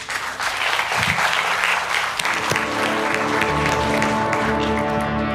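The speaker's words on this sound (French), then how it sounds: "On va applaudir Lorraine." A studio audience on a talk-show set breaks into loud, continuous applause with some cheering, dense and steady throughout.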